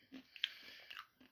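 Dry Maggi chicken flavour instant noodles are bitten and crunched close up, a few quiet, sharp crunches and chews spread over about a second.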